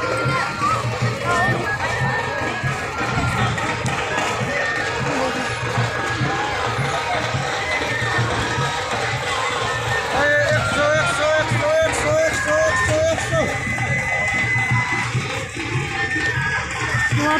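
Busy street festival crowd celebrating Guru Nanak's birthday in Shillong, where traffic is blocked; continuous loud babble of many voices, including children, with shifting chatter and movement throughout.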